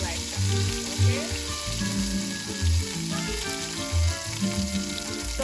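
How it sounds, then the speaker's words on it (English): Lima beans sautéing in leftover grease in a pan for a Haitian vegetable stew, giving a steady loud sizzle and frying crackle throughout, with occasional clinks and stirring sounds up close. "that same grease and saute my lima beans"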